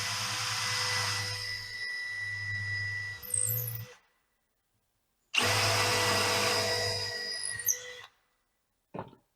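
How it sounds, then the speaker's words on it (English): A power drill boring into a wooden cabinet runs in two steady whirring bursts of about four and three seconds, separated by silence, with a brief click at the end; close and loud, with no talking. "We just drill at a regular rate. Let the drill cut."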